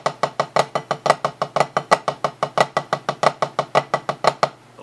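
Drum rudiment played hand to hand on a practice surface, a steady, evenly spaced stream of crisp sharp strokes with flam accents, close and loud, about five strokes per second.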